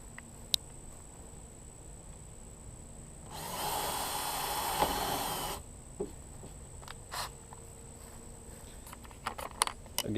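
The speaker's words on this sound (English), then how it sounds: "Again, we're going to use a bunch of different drill bits here." Power drill boring through resin and epoxy on a race boat, a steady whine lasting about two seconds in a quiet workspace, followed by scattered clicks and taps.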